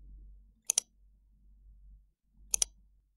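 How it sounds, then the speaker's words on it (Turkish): Two pairs of sharp computer mouse click sounds, played as a sound file on mouse button presses, come about two seconds apart over a quiet low hum, with no talking. "farenin 3 tuşuna bastığımda her birinde buradaki klik 1 dosyasını çalacak"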